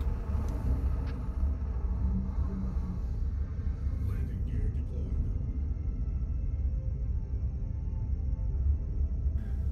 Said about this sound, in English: the storm here can get pretty intense